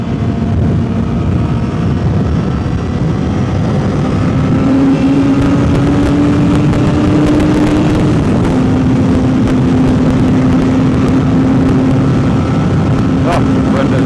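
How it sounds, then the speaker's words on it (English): Strong headwind roars over a rider on a CBR1000RR motorcycle, a loud, constant buffeting rush that swamps everything, with the engine's drone rising in pitch partway through and faint clicks on top. "Wind is very bad from the front."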